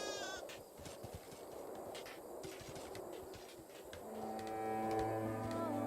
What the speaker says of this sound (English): It's also necessary that you make sound effects when you make decisions about slaughtering whole herds of mountain goats.